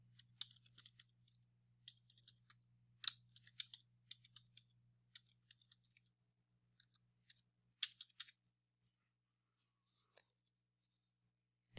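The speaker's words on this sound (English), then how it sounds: "So I'm just going to type a couple of things here" Typing on a computer keyboard in a Word document, with sparse, faint, quiet key clicks arriving in short irregular clusters over a near-silent background.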